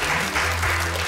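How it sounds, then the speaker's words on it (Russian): Studio audience applauding on a televised quiz show, with steady, dense clapping that carries at full level for about a second with no speech over it. "Давайте им похлопаем."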